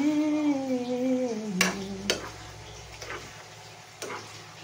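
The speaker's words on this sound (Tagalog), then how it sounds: "Haluin ang haluin." Spoon stirring menudo in a cooking pot, giving a few sharp scraping clinks at a slow, uneven pace over a low simmering hiss, close and fairly quiet.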